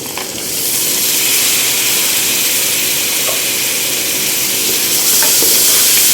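About half a kilo of beef goes into a hot pot for chana dal gosht and fries with a loud, steady sizzle, with occasional stirring scrapes and no voices.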